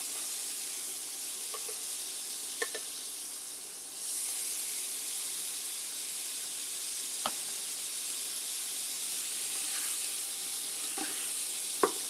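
Tenderloin steak sizzles steadily in melted butter in a hot pan, a close, continuous frying hiss that briefly lifts in intensity, with a few faint clinks of utensils.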